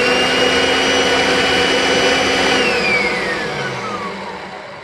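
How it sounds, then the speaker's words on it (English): A Kirby vacuum cleaner runs steadily on an airflow and suction test box, a loud continuous motor whine with a high tone that drops in pitch near the end as the load changes. "Kirby's are not known for high suction"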